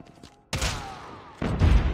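Gunshots in Call of Duty Mobile during a bomb-defusal match: a couple of close, punchy shots with a thud, separated by a brief lull.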